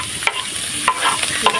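Onion fries in cooking oil in a pan with a steady bright sizzle, broken by a few sharp clacks of a utensil stirring, close and fairly loud.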